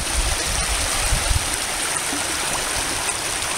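A mountain river on the Navarino island trek flows steadily nearby, a loud continuous rushing wash of water with no talk.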